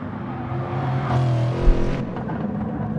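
Race car on a qualifying lap, a loud close engine drone that swells and shifts pitch with a thump midway, no voices.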